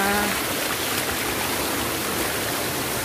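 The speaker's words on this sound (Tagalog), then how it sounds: "Hala, naan ang falls." A waterfall at Luban pours in a steady, dense roar of rushing water that fills the whole clip evenly and close by, with no voices over it.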